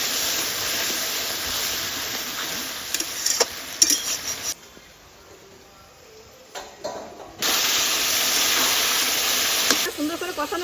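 Spices and turmeric sizzle and hiss in a hot pan as they are sautéed, with metal utensils clinking and scraping. The frying drops away briefly in the middle and then returns loud and steady.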